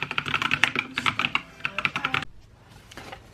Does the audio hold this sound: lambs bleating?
no